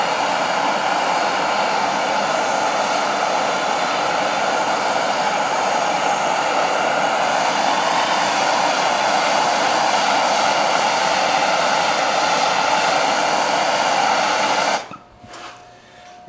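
A welding torch heats metal lotus flower petals one by one, giving a loud, steady, close roar of flame that holds without pause for about fifteen seconds and then cuts off abruptly.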